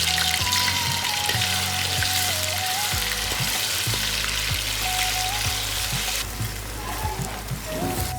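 Potatoes fry in hot oil with ginger-chili paste in a kadai, giving a close, constant sizzle with the occasional clink and scrape of stirring.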